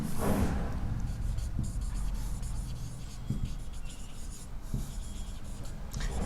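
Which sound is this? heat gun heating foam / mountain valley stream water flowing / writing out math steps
writing out math steps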